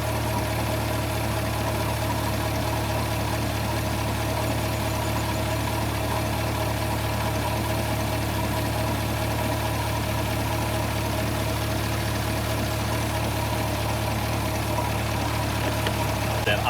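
A Chevrolet Corvette C8 engine idles in a low, even, unbroken drone, close and steady throughout with no speech over it.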